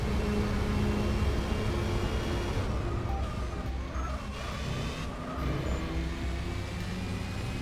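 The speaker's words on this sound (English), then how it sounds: "Rotary engines make so much noise." Rotary-engine race cars scream around a track in Gran Turismo 4, a continuous droning engine whine with a few shifting tones, moderately quiet and steady, no talking.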